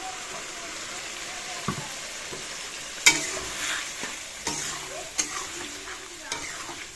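Food fries in a pan with a continuous soft sizzle, broken by several sharp scrapes and knocks of a spatula against the metal.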